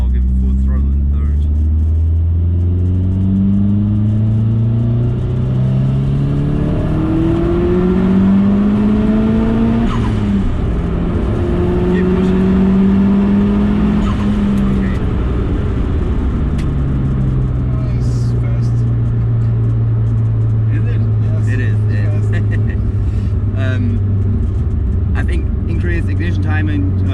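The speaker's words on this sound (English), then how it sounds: "and now give full throttle in third." Stage 3 tuned Seat Leon FR engine at full throttle in third gear, a loud interior drone rising steadily in pitch through several pulls, while someone talks throughout over the engine.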